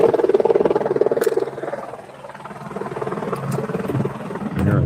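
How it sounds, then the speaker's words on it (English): Lifeline medical helicopter passing overhead, its turbine roar loud and steady at first, easing off midway, then swelling again toward the end. "I heard a chopper."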